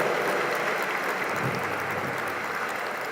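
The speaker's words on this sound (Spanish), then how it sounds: "Dale un fuerte aplauso a la doctora" A conference audience applauds a keynote speaker with a steady, fairly loud stream of clapping that holds evenly throughout.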